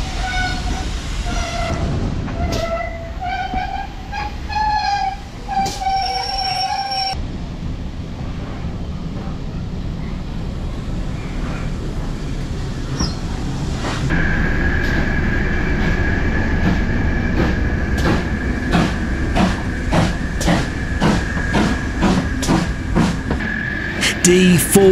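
Heritage train at Horsted Keynes station on the Bluebell Railway, with diesel locomotive D4106 nearby, gives a steady, loud engine rumble and rail noise throughout, with tonal horn-like notes early on and wind buffeting the microphone.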